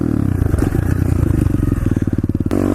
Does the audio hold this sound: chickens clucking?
no